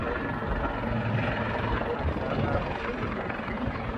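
A helicopter flying at the Wales Air Show in Swansea, its steady rotor drone and engine roar holding even and fairly loud for several seconds, with no clear talk on top.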